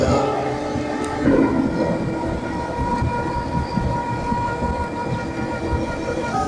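A train passes near Ahsanganj railway station, a loud, close rumble with rattling wagon clatter that holds steady from start to finish.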